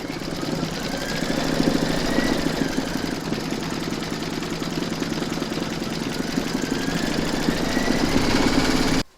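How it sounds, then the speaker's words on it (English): An embroidery machine stitching an in-the-hoop design runs steadily, its motor hum and rapid needle rhythm continuous and fairly close, with no voices, stopping abruptly at the end. "Load whatever colour thread you want for the wording or your buttons into your machine, and then you're going to stitch round number 4"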